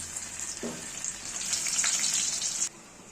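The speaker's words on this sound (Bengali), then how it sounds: "তেলটা আমাদের এখানে সম্পূর্ণ গরম হয়ে গেছে। আমরা গ্যাসের ফ্লেমটা লো করে এখানে ভাজবো।" Potatoes shallow fry in hot oil over a low gas flame, giving a close, steady sizzle that swells and then cuts off abruptly near the end.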